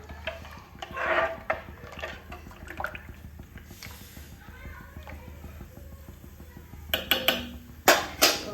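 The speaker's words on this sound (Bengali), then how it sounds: "জলের মধ্যে দিয়ে আমি একটা চামচ দিয়ে খুব ভালোভাবে নাড়িয়ে দেবো।" Vegetables are stirred with a spoon in boiling water, with a soft bubbling background and scattered light clinks and clatters that grow sharper and louder toward the end.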